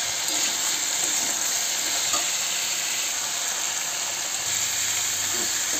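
Papaya and potato pieces frying in sunflower oil in a wok with green chillies and salt while being stirred, a steady close sizzle with faint scraping of the utensil, no talking.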